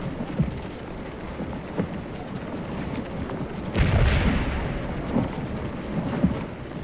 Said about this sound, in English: Trying to avoid artillery, I guess.